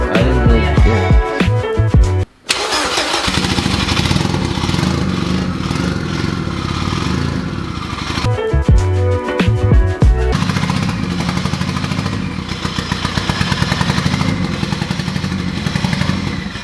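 A Honda K20 engine runs loud and close with a harsh, rapid clattering idle, briefly dropping out twice before catching again and droning on steadily.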